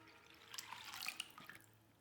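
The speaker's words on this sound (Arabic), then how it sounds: "بعدين بنضيف عليهم مية اللي تغمرهم منيح" Water runs and splashes from a tap into a bowl of soaking dried fava beans, a faint steady trickle with small drips and bursts, no talking.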